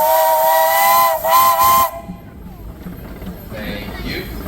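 A steam traction engine at a steam power show sounding its whistle in two loud, steady, close blasts separated by a brief gap, then a softer hiss and a faint short toot against outdoor background noise.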